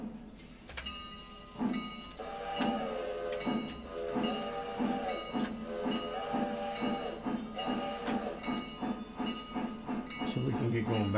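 A passenger train in the Railroader game rolls along with rhythmic clanking and chuffing, repeating steady beats and a hiss of steam, moderately near, while someone talks over it.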